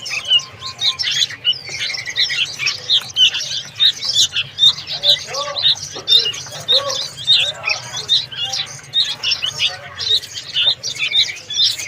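Many sooty-headed bulbul nestlings, kept by a bird keeper among about thirty young birds in nests, chirp in a dense, continuous, high-pitched chorus close by, with steady rapid peeps throughout.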